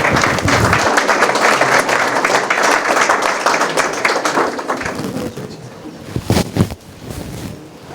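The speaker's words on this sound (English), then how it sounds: "Let's give them one more round of applause." A room at a school board of education meeting applauds academic all-state cross country students, loud dense clapping for several seconds that thins out and fades, with a few scattered claps and murmurs at the end.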